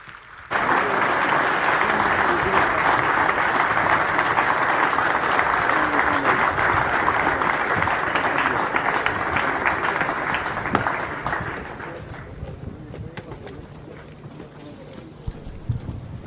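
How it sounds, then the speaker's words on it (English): A crowd at the Indian Naval Academy passing out parade applauds the awardees and champion squadron outdoors, sustained heavy clapping with wind noise, fading sharply after about eleven seconds into lighter scattered claps. "give a huge round of applause to all the awardees and the champion squadron"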